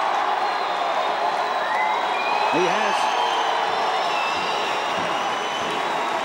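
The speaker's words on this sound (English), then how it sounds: "Well, the Magpie crowd celebrate." Australian rules football crowd roaring after a rebound goal at a Northern Territory league match, a steady broad cheer heard under a commentator's voice.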